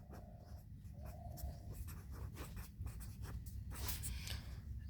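A pen scratches steadily across paper while writing out a Class 8 algebra solution, a soft continuous rustle with faint strokes and lifts, close and quiet against low room hum.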